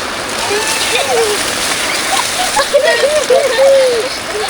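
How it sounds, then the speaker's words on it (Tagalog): Heavy rain pours down outdoors near a trampoline, a loud steady hiss and splatter, while children's voices shout and talk over it close by. "Daddy, Ayun, sobrang lakas ng ulan!"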